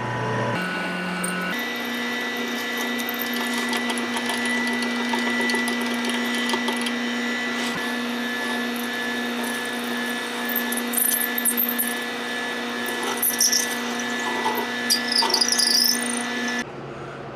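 Power drill boring a hole through a pen blank on a lathe while turning a chrome power click pen, a steady whining hum with a constant tone, running continuously and close for about fifteen seconds before stopping.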